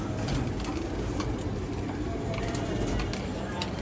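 Pigeons coo steadily in a crowded loft of quality show birds, a dense, continuous murmur of overlapping calls with no clear pauses.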